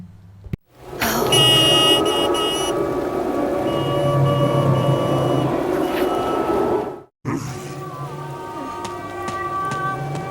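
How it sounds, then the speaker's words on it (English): A car horn in the video game Forbidden Siren, sounding as a long, loud, sustained honk that cuts off abruptly, then resumes more faintly after a short gap over rain-like ambience. "Honk horn, evidently."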